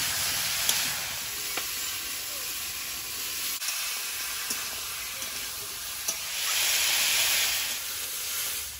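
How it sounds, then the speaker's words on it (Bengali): Vegetables with turmeric, salt and green chilli fry in a pan for a tilapia curry with long beans and papaya, a steady close sizzle with occasional clinks and a brief swell of hissing. "সবজিটা ভালোভাবে ভেজে নেব"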